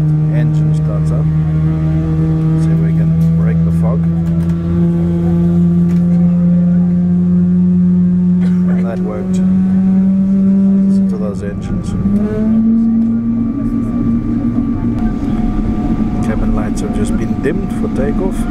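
A Thai Airways Boeing 777 jet engine spools up at Phuket Airport, a loud rising hum that climbs steadily in pitch with cabin noise, and a voice speaks over it.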